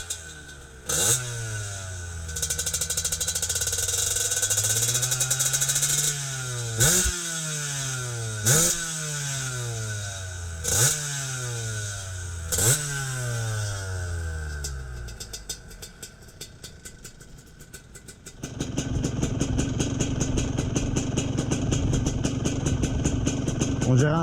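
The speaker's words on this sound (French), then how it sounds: "On dirait un 500 CR quand on dirait top top top top top. Avec ce bruit de pot de trial là." A GasGas trial motorcycle engine fitted with a trial exhaust is revved in several sharp bursts that fall back toward idle, then settles into a fast, steady, rattly popping beat, loud and close.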